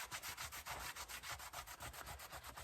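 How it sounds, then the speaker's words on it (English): Cloth wiping over leather riding boots, steady repeated rubbing strokes about five per second, close and fairly loud with no talk. "we're just going to go kind of inch by inch, wiping this thing down and turning it over"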